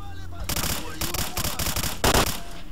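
Rapid rifle gunfire in STALKER: Clear Sky, the weapon set to three-round burst, with sharp loud shots in quick clusters through most of the stretch and a final heavier burst near the end.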